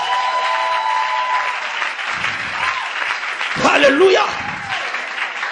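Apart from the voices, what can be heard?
congregation applauding the Lord in church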